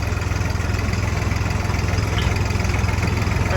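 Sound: tractor engine running

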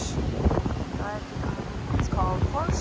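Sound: wind at the beach

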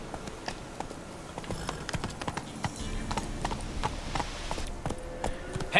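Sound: horse hooves clip-clopping, from a video game

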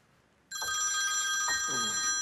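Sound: telephone ringing

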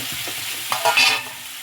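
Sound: stirring rice into tomato thokku in a pan

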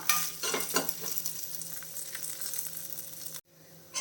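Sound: dried red chillies and green chillies roasting in pan

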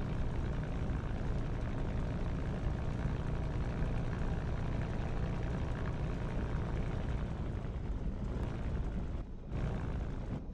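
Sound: aircraft taxiing to runway in Digital Combat Simulator video game

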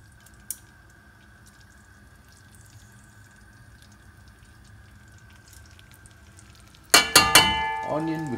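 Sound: onion frying and sizzling in pot for lamb machboos

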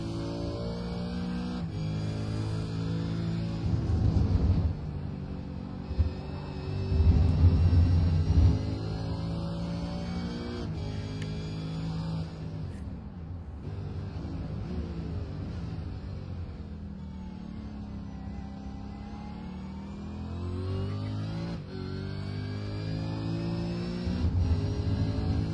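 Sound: V8 race car onboard lap

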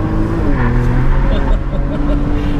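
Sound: Porsche Macan Turbo engine and exhaust accelerating out of roundabout

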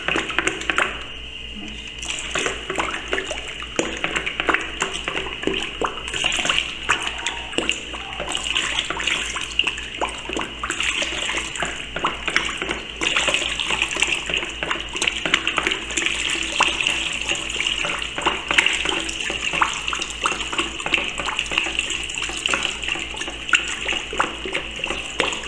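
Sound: pouring 96% alcohol gradually while stirring

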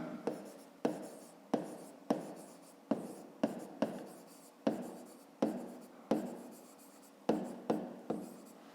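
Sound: writing by hand on paper

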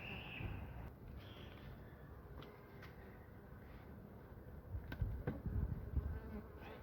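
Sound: honeybees buzzing

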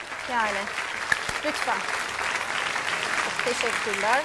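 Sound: applause from studio audience

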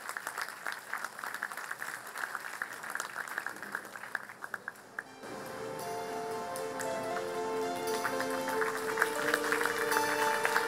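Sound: audience applause for the children who sang

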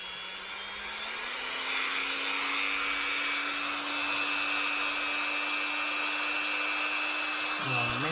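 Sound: drill making a hole for the lead weight in a squid jig

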